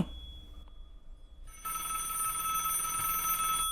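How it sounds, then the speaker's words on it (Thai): Telephone ringing in the Roblox horror game Alone, a bright electronic ring that starts faintly, breaks off briefly, then returns louder and continuous over a quiet background. "โทรศัพท์ดัง"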